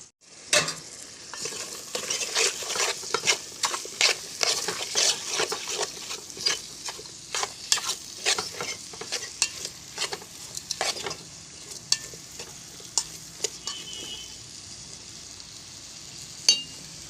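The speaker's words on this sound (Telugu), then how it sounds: "తరిగి పెట్టుకున్న ఉల్లిపాయ ముక్కలను కూడా వేసుకొని ఫ్రై చేసుకోవాలి" Chopped onion pieces fry with mint in a pan, giving a steady hiss of sizzling oil punctuated by frequent sharp spatula scrapes and taps that thin out toward the end, with one loud knock at the close.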